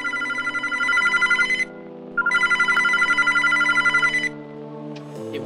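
A telephone in a Roblox video game rings loudly in two long trilling bursts separated by a brief pause, with no talk over it.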